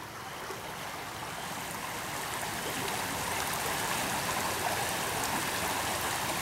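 Water in Frog Creek flows in a steady, even rush that builds slightly and holds, with no voices.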